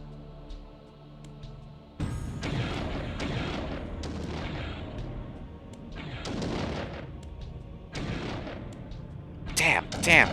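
Booming explosions in the video game Blood Omen: Legacy of Kain, several loud bursts with broad rumbling tails following one another over several seconds, with a sharper crack near the end.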